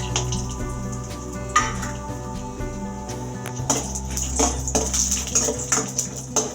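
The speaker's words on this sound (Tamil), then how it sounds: "இந்த மாதிரி நல்லா ப்ரௌன் கலரில் வர அளவுக்கு ஃப்ரை பண்ணிக்கணும்" Chana dal, cashews, cloves, cinnamon and a bay leaf frying in oil over a low flame, with a steady close sizzle and occasional clinks and stirring scrapes in the pan.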